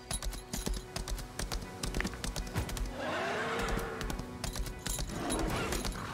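A horse in the video game Lost Ark, with steady clip-clop hoofbeats and a loud whinny partway through, mixed with game sounds and faint keyboard clicks.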